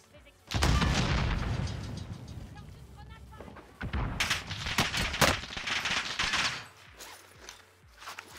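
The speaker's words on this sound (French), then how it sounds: "Qu'est-ce que j'ai fait pour que tout le monde me tire dessus, gros?" Dense bursts of rapid gunfire from an online battle-royale style shooter game, loud and sustained with heavy booming volleys and brief pauses, while someone talks over it.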